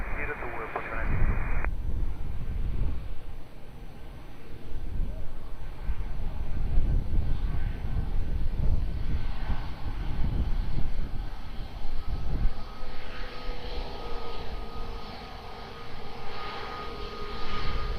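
A fixed-wing airplane drones steadily while approaching runway 02 at Lisbon Airport, a constant engine roar under air traffic control radio talk.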